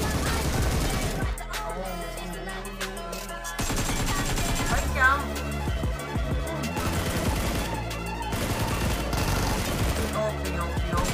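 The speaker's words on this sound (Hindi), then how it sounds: "जॉर्ड वो एकेएम से नॉकआउट किया था ना" AKM rifle fire in the BGMI mobile battle royale game, rapid bursts of gunshots layered with music and game sounds, loud and nearly continuous with a short lull near the start.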